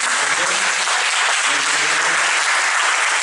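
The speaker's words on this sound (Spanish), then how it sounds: "le damos un aplauso a muchas" Steady audience applause fills the room at a book discussion event, a dense, even wash of many hands clapping at constant loudness with no voices over it.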